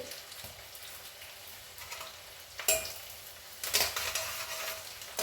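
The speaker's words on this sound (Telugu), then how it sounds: "కొంచెం అల్లం వెల్లుల్లి పేస్ట్" Ginger garlic paste frying in a hot pan while cooking mirchi ka salan, a steady close sizzle with a couple of sharper bursts of spatter and stirring partway through.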